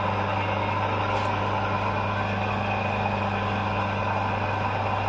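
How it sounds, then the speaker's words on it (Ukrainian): A small electric motor wired to a capacitor runs with a steady, even hum and a constant low whine, unbroken and fairly loud throughout with no voices. "Ось моторчик працює."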